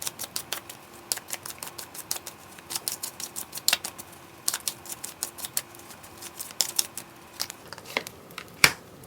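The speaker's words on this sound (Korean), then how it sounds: "저는 카드를 섞어 볼게요" Tarot cards being shuffled by hand, giving quick close-up flicks and soft riffling taps in irregular bursts against a quiet room, with no talking.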